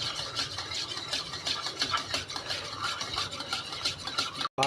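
Five eggs beaten in a bowl with quick, continuous whisking strokes, a busy rattling patter close up that breaks off abruptly just before the end.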